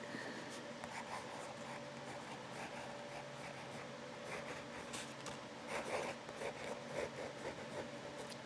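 A fountain pen with a No. 6 medium nib writes on paper in Robert Oster Black Violet ink, a soft, continuous scratchy rasp of strokes close up and quiet, with light rhythmic pauses.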